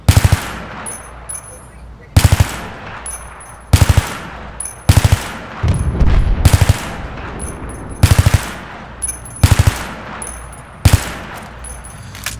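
Machine gun fire in Battlefield 3 comes in loud, close bursts of rapid shots, about eight short volleys with brief pauses between them across the stretch.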